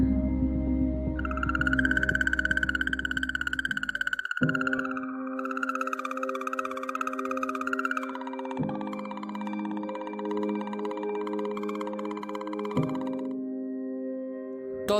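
An eerie, melodic electronic tone from a space recording of comet 78P wavers and slides between pitches over a low sustained drone, shifting in steps like a strange slow tune.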